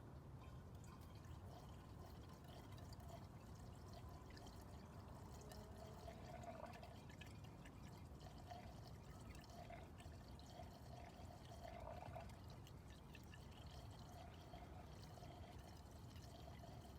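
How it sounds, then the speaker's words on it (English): Water pours steadily into a water fire extinguisher being topped off, a quiet continuous liquid rush with faint trickling and gurgles, with no talking. "I'm going to fill it with water to the base of that"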